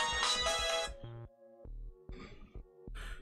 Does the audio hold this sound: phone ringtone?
yes